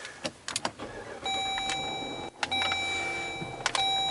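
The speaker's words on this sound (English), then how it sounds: "car fires right up" A 2012 Jeep Grand Cherokee Overland with keyless go starts up: a few sharp clicks and soft chime tones, then the engine turns over and settles into a steady, close idle.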